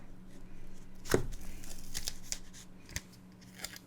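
A craft knife slices through paper in a few short, crisp strokes, one louder cut followed by quieter scrapes, close and otherwise quiet.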